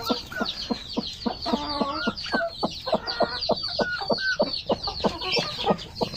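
Brahma chicks and hens cluck in a freshly hatched brood, with a rapid string of sharp, loud peeps and clucks close by and high chirping mixed in throughout.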